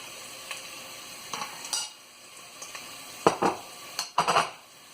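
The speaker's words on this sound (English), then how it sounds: "Now add the ginger and garlic, crushed garlic and grated ginger, salt to taste" Crushed garlic and grated ginger with salt fry in a pan for chana masala, a soft sizzle under sharp scraping stirs and spoon clinks that come in irregular close bursts.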